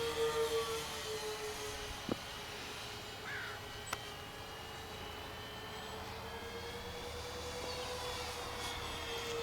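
Avios Kingtwin 1700 twin-engine RC plane flying at about 80% throttle, a steady distant electric whine with a constant tone that holds evenly throughout, plus a couple of faint clicks.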